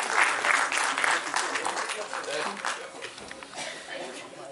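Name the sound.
audience applause at a live music show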